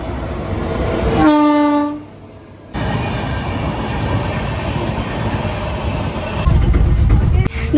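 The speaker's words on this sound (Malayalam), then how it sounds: "ട്രെയിന് പോയിക്കൊണ്ട് തന്നെ ഇരിക്കുകയാണ്" Train rolling through a railway crossing near Nedumbassery in Kerala, sounding a sustained horn blast before its wagons rumble past close by in a steady, loud roar that builds toward the end.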